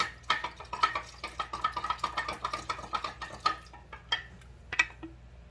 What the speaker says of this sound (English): So I'm gonna mix. Mix, mix, mix.